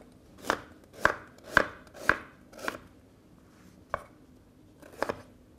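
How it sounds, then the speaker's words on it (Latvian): Celery being chopped with a knife on a board: about eight crisp, close knocks, evenly spaced at first, then a pause and a couple of later cuts, each sharp and distinct with no talk over them. "Un seleriju arī sagriežam nepārāk rupji, nepārāk smalki."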